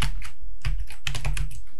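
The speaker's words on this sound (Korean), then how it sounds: "Alt 엔터 치시고" Someone types on a computer keyboard, pressing Alt and Enter while entering data into an Excel sheet. Several crisp, close key clicks come in quick uneven bursts.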